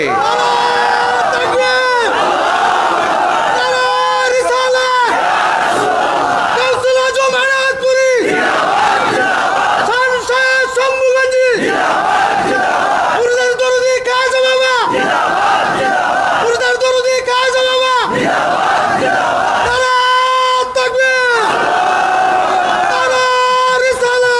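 A large crowd chants takbir slogans in unison at a religious gathering, loud rhythmic shouted bursts repeating roughly every few seconds with brief pauses between them.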